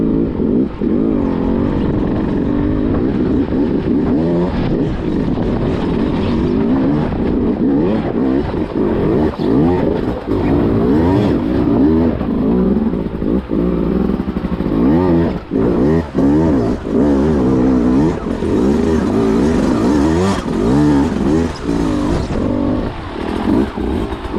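Beta 200 two-stroke dirt bike engine revving hard while being ridden off-road, a loud, continuous raspy roar with rapid rises and falls in pitch, close to the rider and without talk.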